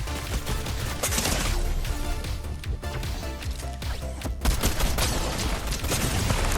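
Dense, continuous rapid gunfire fills a Fortnite Reload battle, close and loud bursts overlapping with crashes and impacts throughout, with no pauses in the firefight.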